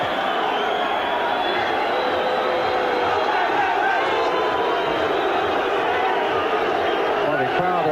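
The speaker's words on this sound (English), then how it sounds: "the crowd around me, the Evertonians, are booing referee Neil Midgley" Everton fans in a large stadium crowd boo the referee during a 1988–89 First Division match against Liverpool, a dense, sustained roar of massed voices with a voice speaking underneath.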